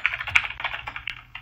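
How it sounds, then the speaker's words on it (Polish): Hard, rapid typing on a computer keyboard during a Rocket League session, a dense run of loud clacking keystrokes close to the mic with no talk over it. "Przestań naparzać tą klawiaturę"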